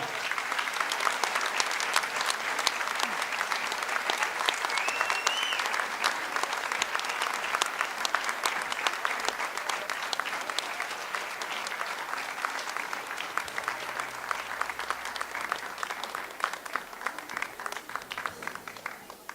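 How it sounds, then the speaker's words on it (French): An audience at a regional beauty pageant opening applauds as Miss France 2017 comes on stage, a long steady roar of many hands clapping, fairly distant with faint crowd sounds mixed in. "Sous vos applaudissements."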